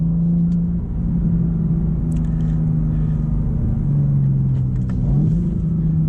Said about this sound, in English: just to get a little bit of road noise, maybe one nice acceleration up to the speed limit.